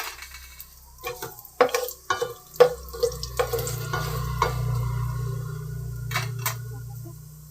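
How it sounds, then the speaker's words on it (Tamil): Whole spices—cloves, star anise, cinnamon, fennel, cardamom and a bay leaf—fry in hot oil in a pan with a soft steady sizzle, punctuated by sharp clinks and scrapes of a spoon stirring against the pot. "சேர்த்து நல்லா பொரியட்டும்"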